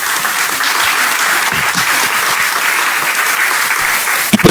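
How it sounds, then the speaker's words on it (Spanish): Steady, dense applause from an audience at a Spanish-language book presentation, loud and close, filling the whole moment without talk before a few final claps. "También les pido un aplauso para el maestro Lugo."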